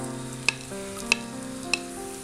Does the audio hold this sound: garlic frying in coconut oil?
yes